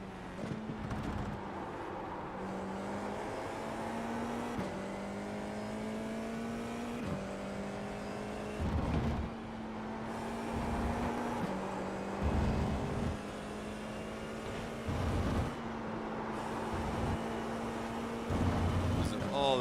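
An FIA F4 race car laps Laguna Seca, its onboard engine note climbing repeatedly through the gears, with rhythmic shift drops and brief louder bursts under braking and acceleration across the lap.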